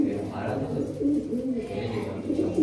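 Black high-flying pigeons cooing indoors in a lit room, a steady low murmur of several birds close by with overlapping soft coos and a person talking over them.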